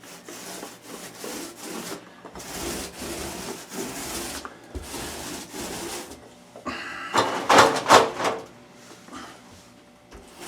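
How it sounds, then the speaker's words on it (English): Primer sealer is brushed or rolled onto new drywall in soft, repeated rubbing strokes that grow louder and scratchier in a burst toward the end, close by and quiet overall. "let me put on this this primer, this sealer on the new sheetrock"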